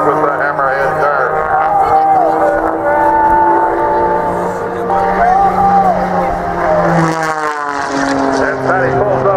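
Extra 300 aerobatic airplane with a 540 cubic inch engine performing at an air show, its steady droning engine roar sustained throughout under continuous commentary.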